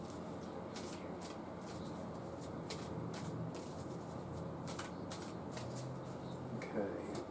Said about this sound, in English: now I'm going to finish shuffling